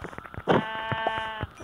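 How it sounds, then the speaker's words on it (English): A single sheep bleats in Minecraft Pocket Edition, a short wavering harmonic bleat heard clearly and alone over faint game sounds, with a couple of soft taps around it. "Beautiful sheep, come here."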